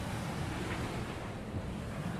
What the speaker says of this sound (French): c'est une des pires tempêtes dans lesquelles je me suis jamais trouvée.